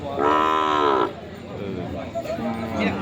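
A cow lets out one loud, drawn-out moo close by at a cattle market in Yasothon, followed by quieter market chatter and background noise.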